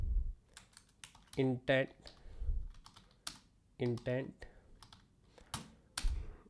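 Typing on a computer keyboard, a few close clicking bursts with someone talking over it.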